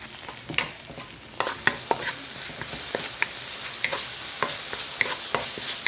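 Kale stirred in a hot pan, a steady sizzle under repeated scraping and tapping of a utensil against the pan, close and clear.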